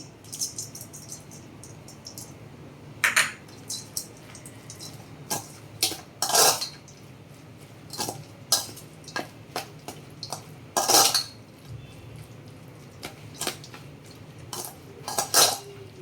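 A spoon scrapes and clinks against a bowl while mixing Khandeshi-style brinjal bharit with roasted peanut powder, raw onion and fresh coriander, giving irregular metallic taps and scrapes close by over a quiet background.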